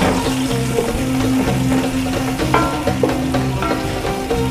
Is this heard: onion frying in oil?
yes